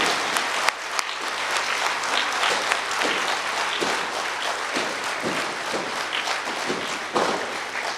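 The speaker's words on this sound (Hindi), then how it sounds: "एक बार और जोर से ताली बजाएंगे" A large audience at a Diwali morning birthday celebration in Om Shanti Bhawan, Mount Abu claps hard and continuously, a thick wash of applause with a few sharper individual claps and thumps standing out.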